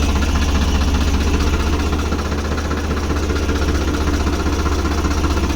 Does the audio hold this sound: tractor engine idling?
yes